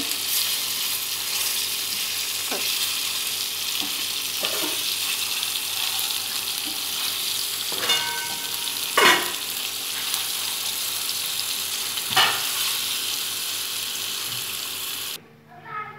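Banana kums, a sweet plantain snack stuffed with fried prawns, frying in hot oil with a steady broadband sizzle throughout and a few brief clinks as pieces are turned, ending abruptly.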